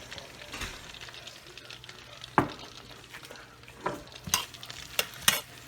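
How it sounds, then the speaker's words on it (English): Onions go into hot bacon grease and butter in a frying pan, giving a faint steady sizzle broken by a few sharp clinks and stirring scrapes, with no talk. "We're gonna go ahead and add our onions. Careful when you add stuff into a pan of hot oil like this."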